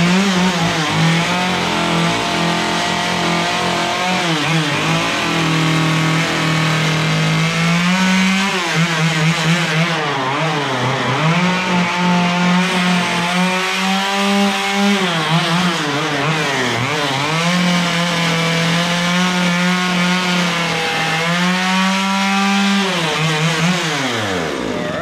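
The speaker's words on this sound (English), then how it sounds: "run my saw around here and clean some of these little boogers up" A chainsaw carves a simple wooden tiki, its engine droning loud and close without a break while the revs rise and fall repeatedly as the blade touches up and cleans the carving.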